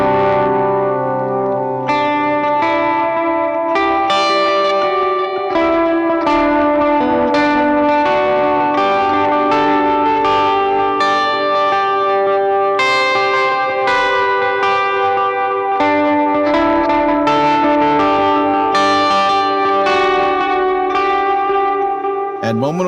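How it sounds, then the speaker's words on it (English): Clean electric guitar notes through an M-Vave Blackbox bloom into a dense, washy reverb that smooths their attacks, each phrase trailing into a soft, lingering tail. "Let's see how this softens up even more with a thicker reverb."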